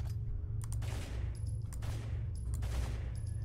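Rapid gunfire in Shrek's Gunderland 2 comes as repeated quick bursts of shots over a steady low game hum, loud and continuous for a few seconds.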